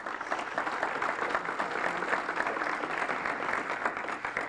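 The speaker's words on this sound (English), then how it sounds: "So I just give them a round of applause." Steady round of applause from an audience at a chamber of commerce annual meeting in Wilmington, a dense continuous patter of many hands that holds an even, moderate level throughout without voices.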